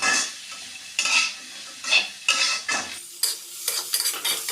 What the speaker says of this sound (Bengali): পেঁয়াজ কুচি ও গোটা কয়েকটি কাঁচামরিচ দিয়ে ভালোভাবে নেড়ে চেড়ে ভেজে নেব